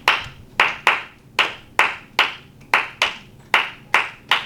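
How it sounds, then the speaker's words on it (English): Steady rhythmic hand clapping in a flamenco teaching setting, about a dozen sharp, evenly spaced claps at roughly two or three per second, close and crisp with no talk. "I said clapping."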